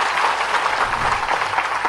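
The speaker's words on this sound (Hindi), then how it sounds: "ताली बजा" Steady, dense audience applause from a crowd of young people at a cooperative-day interaction event with a chief minister, continuous and even throughout with no voices on top.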